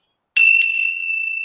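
A Tibetan tingsha meditation bell struck once after a moment of silence, a bright ringing chime with a quick second touch, then a clear sustained tone that rings on steadily, close and alone.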